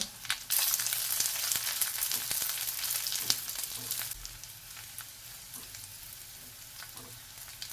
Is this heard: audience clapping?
no